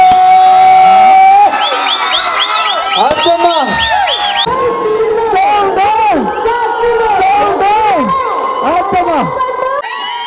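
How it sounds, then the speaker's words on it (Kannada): Crowd cheering and shouting at a Ganesh festival laddu auction in Chikkaballapur, after a 21 kg laddu is won for 75,000; loud, dense voices and whistles carry across the whole stretch, with people talking throughout. "ಸರಿ ಜೋರಾದ ಚಪ್ಪಾಳೆ"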